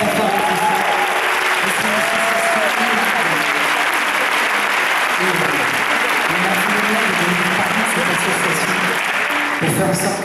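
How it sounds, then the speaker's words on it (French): A concert audience at the Casino Toulouse breaks into loud, sustained applause, a thick wash of many clapping hands with faint voices mixed in. "Et ça, je crois que ça s'applaudit très très fort."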